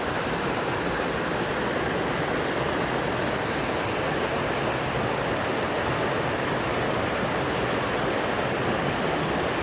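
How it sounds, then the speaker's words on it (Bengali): Water of Bamni Falls on Ayodhya Hill pours in a steady, dense roar that fills the scene without a break, loud and close with no voices over it. "আশা করি জলের আওয়াজটা শুনতে পাচ্ছেন"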